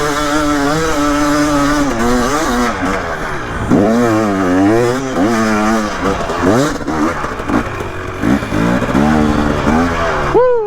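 A dirt bike engine revs hard and continuously during a hill climb on a Brushy Mountain trail, its pitch rising and falling with throttle changes, loud and close throughout.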